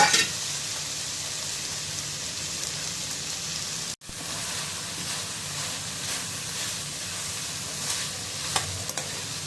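Chinese food fries in a wok at a home party, a constant loud sizzle like heavy rain with occasional scraping stirs, briefly cut off midway before resuming.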